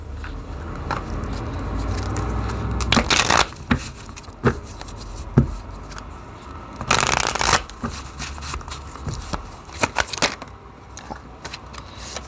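A deck of tarot cards shuffled by hand, producing loud, close riffling bursts and softer patting and sliding between them, with no talking.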